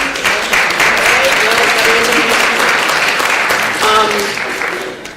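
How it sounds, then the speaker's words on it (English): An audience applauds conference volunteers with steady, close clapping that fills the room, swelling briefly before tapering slightly, while a voice carries on speaking over it. "let us applaud you as well at any point"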